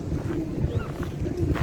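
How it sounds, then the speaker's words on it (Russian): A small boat rocks on the waves at an old port, with a steady wash of water and wind noise rumbling continuously throughout and no voices. "Здесь вот кораблик болтается на волнах."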